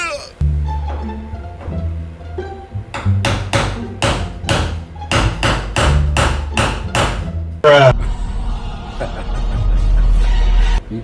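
Hammer knocking dents into a Chevy C10 door skin where the mirror holes were drilled: a run of sharp metallic strikes in quick succession, loud and close, with a pause and more rough working afterward.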